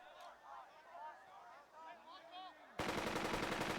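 Gunfire in the Burden of Command video game erupts abruptly as loud, dense rapid shots near the end, following a stretch of voiced game chatter and effects.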